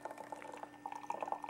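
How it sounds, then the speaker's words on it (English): Coke poured from a container into a cup, a soft steady liquid trickle with faint fizzing that stays fairly quiet and even for a second and a half. "I'm just pouring a Coke"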